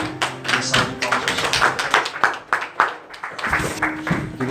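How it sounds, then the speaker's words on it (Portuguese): A church congregation applauding together, with rapid, uneven clapping that swells and dips in waves, loud and close, running continuously without speech. "Dê uma salva de palmas ao Senhor"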